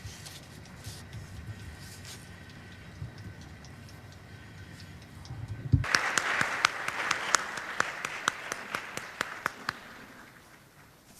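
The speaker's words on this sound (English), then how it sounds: "Let us give him a big applause." Audience applause at an international climate symposium in Kyoto as the IPCC chair comes up to the stage: quiet hall murmur, then a sudden burst of steady, fairly loud clapping that carries on to the end with no speech over it.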